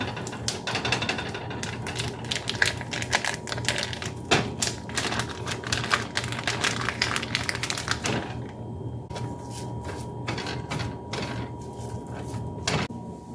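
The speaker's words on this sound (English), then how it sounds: "I'm going to start off by adding my pork sausage into the pan." Pork sausage frying in a pan for potato soup, giving a dense, steady crackle and sizzle with many sharp pops and spits, close and continuous with no talking.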